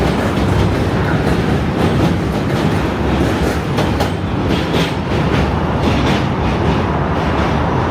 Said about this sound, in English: M train. Lots of trains.